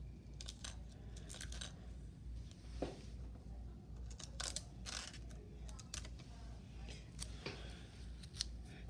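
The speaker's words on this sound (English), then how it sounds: "Let me put a piece of tape on that." A strip of tape is torn and pressed onto a paper wing template for a Davis wing model: a few brief crinkly rips and light taps, faint and close, over a steady low hum.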